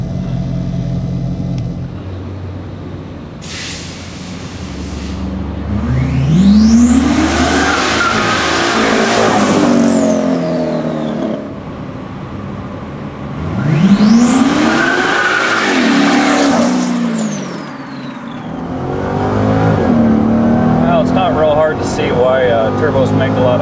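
An STS twin-turbo Chevrolet Corvette C6 drives on the road, its engine rising through loud surging pulls with tire and wind noise, passing swells in two big waves while someone talks over it.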